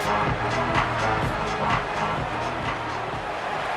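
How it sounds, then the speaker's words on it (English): Stadium crowd noise from the EA Sports College Football video game, a steady loud roar of cheering fans holding for the whole stretch after a big goal-line defensive stop, with low rhythmic band or chant tones underneath. "this crowd is hype"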